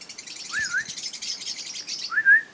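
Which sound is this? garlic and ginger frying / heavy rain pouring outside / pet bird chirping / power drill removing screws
pet bird chirping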